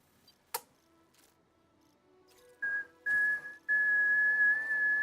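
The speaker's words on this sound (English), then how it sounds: "I'm whistling at the babies." Someone whistles a thin, steady tone in short phrases, starting after a sharp tap and growing into longer held notes that are fairly clear over a quiet background.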